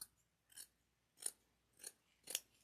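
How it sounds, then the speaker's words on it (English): Scissors trim minky fabric around a heart shape, giving five crisp snips at a steady, unhurried rhythm. The cuts are close, faint and isolated, with no talking. "Okay, trim it, and then I'm going to trim around this heart"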